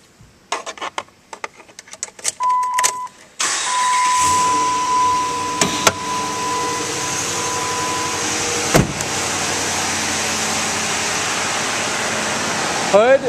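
A 2008 Dodge Ram 1500 Hemi 4WD pickup cranks after a few clicks and thumps, then settles into a steady, loud idle with a constant drone and a brief whine, broken by a couple of sharp knocks.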